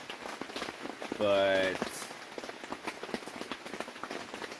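Steady rain patters on a tent or camper top in a mountain setting, a soft continuous spatter throughout, with a brief spoken word partway through.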